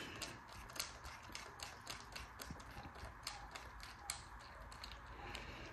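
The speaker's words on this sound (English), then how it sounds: "get this cam bolt torqued" A torque wrench ratchets on the cam bolt of an engine fitted with a billet steel solid flat tappet camshaft. The clicks come as a steady run of faint, close mechanical ticks.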